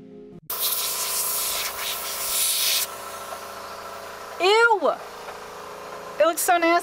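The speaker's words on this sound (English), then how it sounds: "I'm just going to be going in with my airbrush" An airbrush sprays red paint over light tan base paint on armor, a steady airy hiss lasting a couple of seconds and then trailing off, followed by brief whistling tones.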